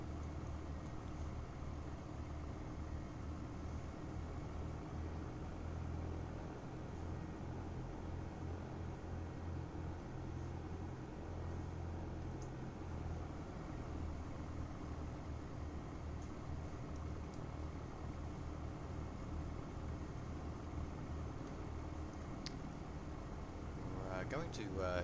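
A simulated Just Flight Duchess 76 twin-engine light aircraft idling and taxiing in FSX/P3D, a steady low engine drone that stays even throughout with only slight variation.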